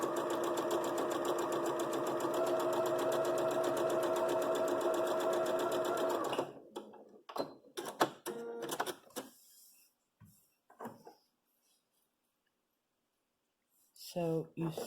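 A sewing machine stitches quilt fabric in a steady, close whir for about six seconds, then stops, leaving scattered handling clicks and rustles followed by near silence.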